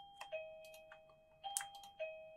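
A doorbell rings indoors, giving a few short, clear tones that sit moderately loud against quiet room noise.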